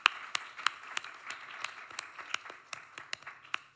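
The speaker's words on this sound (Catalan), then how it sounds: "Un fort aplaudiment per a Núria Busquet." Audience applause at a Barcelona Poesia 2024 poetry event, a sustained patter of many hands clapping with scattered sharper claps standing out, steady and fairly close, no talking.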